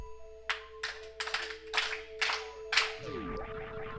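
Hands clap about five times in a rhythmic sequence, crisp and fairly close, over a steady electronic tone from a Super Metroid randomizer game, followed by descending game sound effects.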